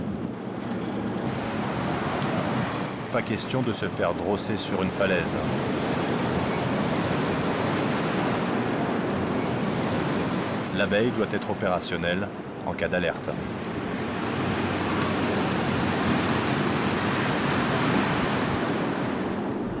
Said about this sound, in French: la tempête fait toujours rage